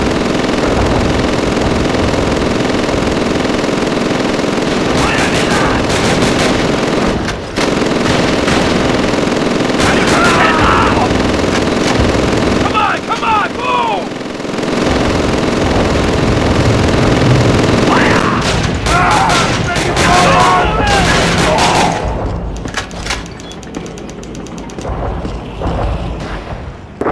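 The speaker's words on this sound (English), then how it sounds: "Machine gun! We have to go prone!" Sustained machine gun fire with scattered gunshots and bursts in the World War II shooter Call of Duty: Roads to Victory, loud and continuous for most of the span, with shouted voices mixed in before fading near the end.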